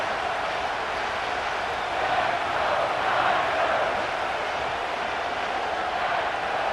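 In Madden NFL 25, a stadium crowd at an Eagles versus 49ers game roars steadily before a third-and-goal play, a broad continuous wash of cheering that swells slightly midway.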